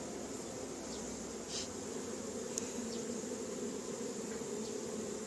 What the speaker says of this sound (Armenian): Մեղուն, սիրելի մեղուն է։